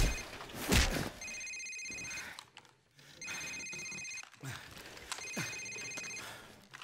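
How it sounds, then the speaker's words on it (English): Cell phone ringing in the Call of Duty video game, three bursts of a rapid electronic trill ring, under a tense game soundtrack with faint voices and a heavy thump. "Sir, it's his cell phone."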